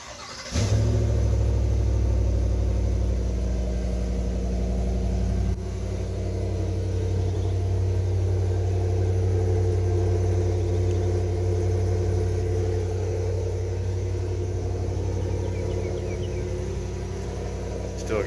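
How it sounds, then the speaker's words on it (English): A 2022 GMC Yukon XL AT4 with the 6.2-liter V8 and factory exhaust cold-starts close by, a sharp crank and flare, then a loud steady high idle that drops to a slightly lower rumble partway through. "I'm going to do a quick video here on my 2022 Yukon XL AT4 cold startup"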